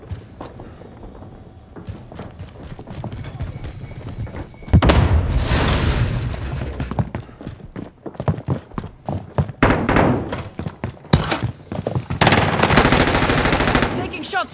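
Bursts of automatic gunfire and single shots ring out during a Call of Duty Warzone battle royale match on Rebirth Island, loud and close, mixed with thuds and footsteps. The firing comes in irregular volleys over a rumbling game soundscape.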